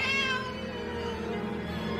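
A single drawn-out cat meow from the film Drag Me to Hell, clear and fairly close, tapering off over about two seconds with no talking.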